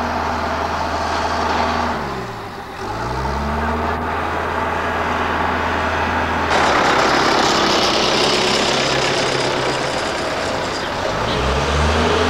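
A farm tractor engine idles steadily and loudly throughout, a low continuous rumble with a brief dip in level and a broader, rougher roar in the second half, with faint talk underneath.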